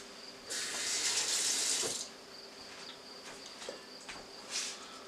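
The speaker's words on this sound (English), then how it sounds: "wet your hands" A kitchen tap runs briefly for wetting hands while bread dough is being made, a close hissing rush of water that stops after a second or two, leaving faint clicks and a thin high background tone.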